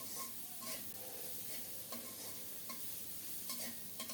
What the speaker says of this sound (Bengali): এখন দিচ্ছি একটা মাঝারি সাইজের পেঁয়াজ কুচানো নেড়ে চেড়ে আরও কিছুক্ষণ ভেজে নিয়ে নামাবো